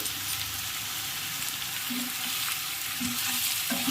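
Brinjal pieces fry in a pan with turmeric and salt, giving a steady, dense sizzle that holds at an even level, with a few brief scraping knocks from stirring near the end.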